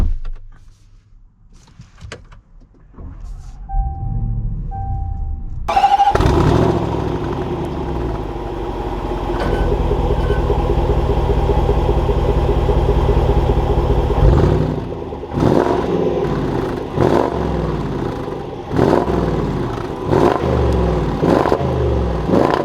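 A 2021 Range Rover Sport SVR Carbon Edition starts up with a quiet clunk and electric whir, then a loud engine rumble that holds steady while driving and surges in several rhythmic revving pulses toward the end, with no talking.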